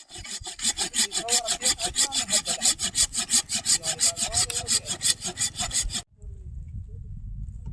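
Hand saw cutting through wood outdoors, a steady rhythmic back-and-forth rasp of about two dozen loud strokes that stops abruptly, leaving low background rumble.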